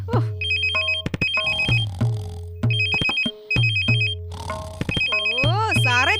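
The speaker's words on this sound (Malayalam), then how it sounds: "ദേ ഫോൺ അടിക്കുന്നു" A telephone ringtone plays loudly and close, repeating electronic melodic bursts with short gaps between them.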